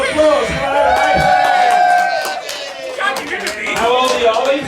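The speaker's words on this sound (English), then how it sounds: "Give Ollie a round of applause." A pub crowd at a cane toad racing night in Port Douglas cheers and whoops continuously and loudly, with scattered claps and overlapping shouted voices throughout.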